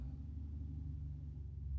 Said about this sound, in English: Audi sounds lovely over there.